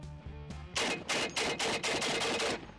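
An AK 50 rifle fired from the shoulder outdoors: after a low hum, a string of about seven loud, evenly spaced heavy booming shots with a brief ringing decay after each.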